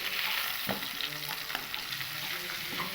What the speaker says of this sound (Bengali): এবার এই এঁচড়টাকেও আমি তুলে নেব আলুর মধ্যেই।